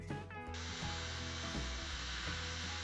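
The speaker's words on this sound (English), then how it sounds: "Still some sanding work to do." Sanding work on a homemade Bluetooth speaker box built from scrap wood: a loud, continuous power-tool whir starts after a short tonal bit and runs steadily, close by, with no talk.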